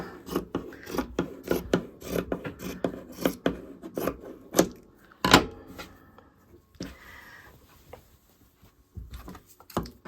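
Scissors trimming fabric for a Christmas stocking, heard as a quick series of close, crisp cutting snips in uneven bursts with short pauses, followed by quieter rustling handling.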